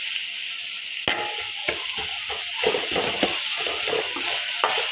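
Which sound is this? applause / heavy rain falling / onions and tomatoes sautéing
onions and tomatoes sautéing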